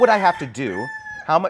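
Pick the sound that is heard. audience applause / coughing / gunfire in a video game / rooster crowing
rooster crowing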